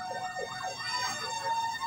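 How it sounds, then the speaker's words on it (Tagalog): Several fire truck sirens wailing outside, rising and falling continuously at moderate distance over a steady background hum. "Ang daming ano, ang daming bumbero."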